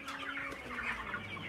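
Broiler chickens cluck in a short close burst, several birds calling over one another in a poultry house with no talk.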